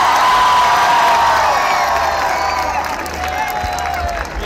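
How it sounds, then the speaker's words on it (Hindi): A large crowd at a PTI political rally in Faisalabad roars with sustained cheering, whoops and clapping, loud and dense throughout. "हाथ उठाकर तालियों की गूंज में बताइए इमरान खान से कितना प्यार करते हैं।"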